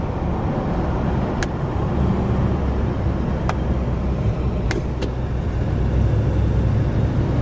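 A Lincoln with a 460 cubic inch four-barrel V8 pulls away on a hot day, a steady low engine drone and road rumble heard from inside the car, with a few faint clicks over it.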